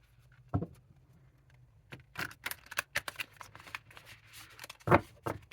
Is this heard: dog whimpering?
no